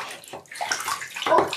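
A young child splashing in a warm bath at home, with short bursts of sloshing and moving water close by, uneven and quickly changing over a brief stretch.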